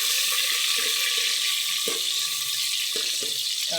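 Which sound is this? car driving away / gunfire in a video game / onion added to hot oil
onion added to hot oil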